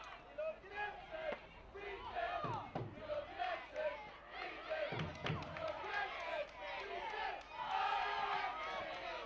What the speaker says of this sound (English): Everton fans still cheering their team on.